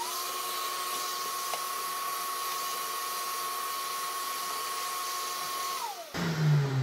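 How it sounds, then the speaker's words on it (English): A shop vacuum with its hose attached runs at a steady high whine, loud and constant, then winds down abruptly near the end as it is switched off. "Now this vacuum sucks"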